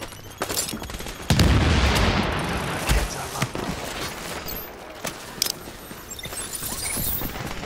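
Gunfire bursts from the online shooter Tom Clancy's The Division, heard as repeated sharp cracks and a loud rattling barrage in a dark-zone firefight, steady through the clip with no clear talk over it.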